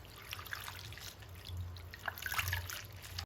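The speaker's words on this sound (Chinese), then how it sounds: "往里面加入适量的长江水，然后再加上少许的食用盐，下手给它洗一下" Leafy ma zi cai greens are swished by hand in a basin of salted river water, giving soft continuous trickling and sloshing with a few small splashes, close by and fairly quiet.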